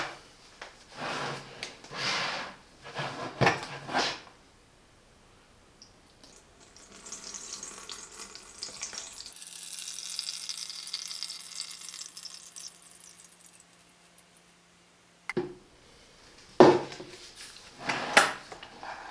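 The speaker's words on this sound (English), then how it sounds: "So let's fill up with water and start the ironing." Water pours and trickles into the tank of a Philips PSG2000 steam generator iron for about eight seconds, framed by clicks and clatter of handling the plastic tank and lid before and after.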